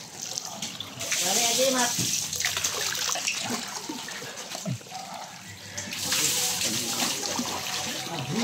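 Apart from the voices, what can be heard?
running water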